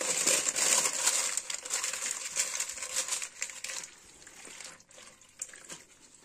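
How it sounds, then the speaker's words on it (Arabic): Water is poured onto crumpled parchment paper for a tagine, crinkling paper with a light trickle of liquid close by, loud at first and then quieter with scattered rustles. "معايا ورقة زبدة، هبلها شوية مية"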